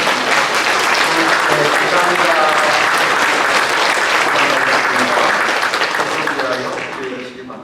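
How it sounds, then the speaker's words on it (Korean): A church congregation at a Sunday service claps loudly for a departing member, with continuous applause and voices mixed in, fading toward the end. "잘 가라고 박수 한번 할까요?"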